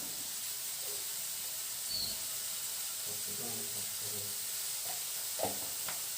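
Onions with salt sauté in a pan, a quiet, steady sizzle and hiss with a few soft stirring taps, without any voices.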